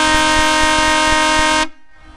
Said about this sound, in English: And here's the air horns.